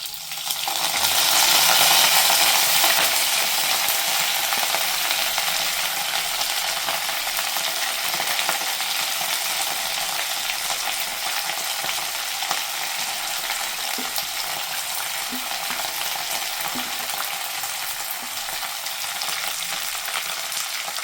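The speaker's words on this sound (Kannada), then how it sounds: "ಈಗ ಇದಕ್ಕೆ ಇದೆಲ್ಲ ಫ್ರೈ ಮಾಡ್ಕೊಳ್ಳೋಣ ಚೆನ್ನಾಗಿ. ಎಣ್ಣೆ ಕಾದಿದೆ." Ingredients for a Karnataka-style kaima gravy fry in hot oil, a loud, steady broadband sizzle that peaks early then settles into a continuous crackle, with a few faint utensil clinks and no talking.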